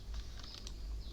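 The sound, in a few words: computer keyboard typing, pressing Ctrl X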